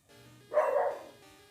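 A single short bark-like cry from a dog in the Pokémon Gold game rises over quiet game music, with no talk.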